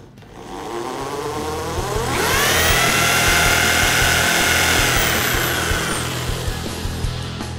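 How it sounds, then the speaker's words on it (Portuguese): A homemade lathe driven by a power drill spins up while turning a small piece of wood, its loud motor whine rising in pitch, holding steady, then easing off slightly, with no voices. "Esse torno, pelo menos com um pedacinho de madeira pequeno, funciona bem pra caramba."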